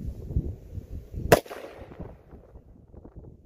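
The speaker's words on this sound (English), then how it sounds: "I'm gonna shoot the 500 mag with a 700 grain hard cast" A .500 magnum revolver loaded with 700 grain hard cast fires a single sharp, loud shot that cuts through low background rumble and rings out briefly.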